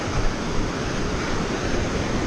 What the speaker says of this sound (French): Là il y a des vagues là.